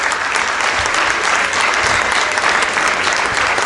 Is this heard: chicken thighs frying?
no